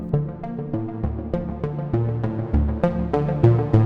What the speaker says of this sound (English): So here I have an ARP going